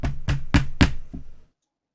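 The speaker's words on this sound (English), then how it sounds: "so it's almost like a knocking sound" Four fast, sharp metallic knocks in quick succession, then a softer fifth that trails off into silence, close and loud with no voices.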